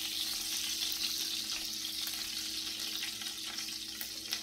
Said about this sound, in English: take our last 4 meatballs out of the frying pan